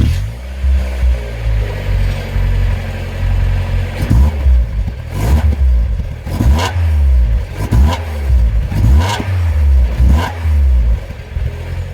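A Mazda MX-5 engine and exhaust, before restoration, idle with a deep rumble and then rev in several repeated bursts that rise and fall, loud and close, with a rattly edge.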